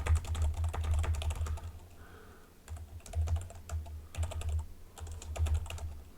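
Rapid keystrokes on a computer keyboard patter in uneven bursts, near and clear, broken by a brief pause midway before the typing resumes.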